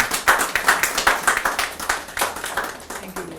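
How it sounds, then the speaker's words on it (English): Audience applause at a celebration of a Sri Lankan morning TV show's 1000th episode, a small group clapping in a quick rhythmic patter, close and clear, tapering off at the end. "give Nimal and Sugita a big round of applause for doing such a great job."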